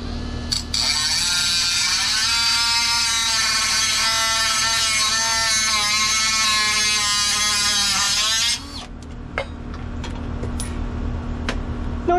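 A power tool, sounding like a reciprocating saw, cuts off a step trailer fender in one loud, steady, buzzing run lasting about eight seconds. It then stops, leaving a lower hum and a few faint clicks.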